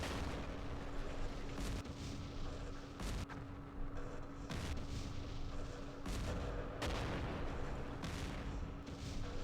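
A full company of Panther tanks firing on Sherman Jumbos in Campaign Series West Front, heavy cannon shots cracking out at irregular intervals over a steady low hum.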